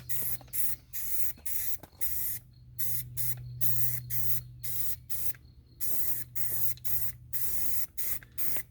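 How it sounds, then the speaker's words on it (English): A Rust-Oleum spray paint can hisses out roughly a dozen short, close, evenly repeated bursts, each a sharp airy spray, with a steady low hum in the background. "you guys may notice I'm using the trigger from a Rust-Oleum spray paint"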